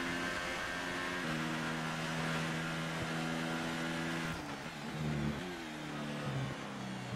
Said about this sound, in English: the engine sound is far more silent than the cheering sound of the crowd.